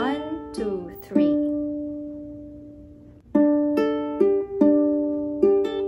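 Ukulele plucking a song intro slowly, a few separate ringing notes, then a short sequence of sustained plucked tones with gaps between, close and clear with no talking.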